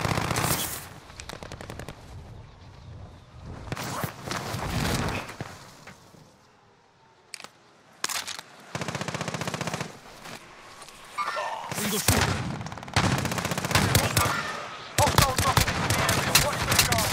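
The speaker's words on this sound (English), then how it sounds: "I was shooting the guy for you." Rapid bursts of automatic gunfire crackle in the Rebirth shooter game, loud and repeated with short pauses between volleys while players talk over the action.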